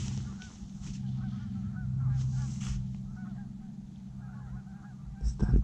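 Geese honk repeatedly over flowing river water during a duck hunt, a loose flock calling in the middle distance with a few louder honks and a closer thump at the end.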